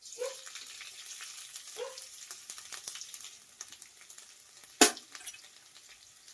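Chopped garlic and ginger fry in a pan for vegetable fried rice, giving a soft ongoing sizzle with a few brief stirring scrapes and one sharp clatter near the end.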